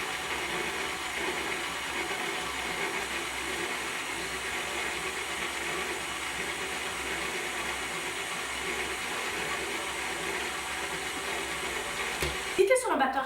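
Electric stand mixer beating bread dough, a steady whirring drone that runs continuously, with a brief clatter near the end.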